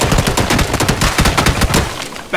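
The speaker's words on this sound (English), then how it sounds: "They're just gonna start firing into the smoke." Rapid gunfire in a Batman video game as enemies fire into a smoke cloud. Loud, dense bursts of shots overlap continuously with no talking.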